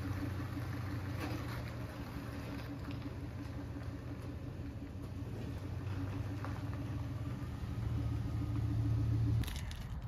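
A 2002 Toyota Tundra pickup on a short test drive after a stuck brake caliper repair, giving a steady low engine and road rumble that swells slightly near the end, with no talk.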